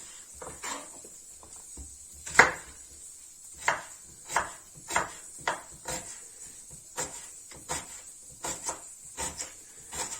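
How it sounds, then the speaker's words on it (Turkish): A knife chops onions on a board in a series of sharp, irregular knocks, roughly a dozen, with one louder strike early on and a steady high hiss underneath. "soğanı doğruyorum"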